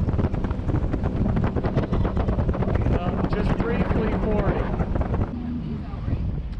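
Strong wind roars across the microphone while riding a Sea-Doo Switch pontoon boat on choppy water, with a loud, steady buffeting and the hum of the craft moving at speed.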